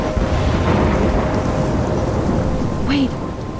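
A thunderstorm in the Life Is Strange video game pours heavy rain with a constant low rumble of thunder, loud and enveloping, and a brief faint rising tone rings out near the end.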